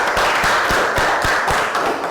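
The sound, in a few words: students clapping for a classmate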